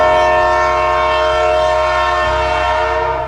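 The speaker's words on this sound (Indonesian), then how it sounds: "suara peluit lokomotif zaman kolonial yang menggunakan tenaga uap air mendidih" A loud, sustained colonial-era steam locomotive whistle shrieks continuously, rich with layered harmonic tones over a low rumbling bed, close and unbroken throughout.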